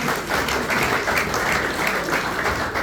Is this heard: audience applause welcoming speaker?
yes